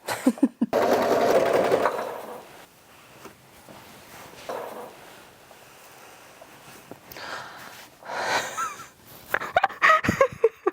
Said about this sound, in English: I'm just gonna double roll the hem and then sew it all along, all edges on both the freaking curtains.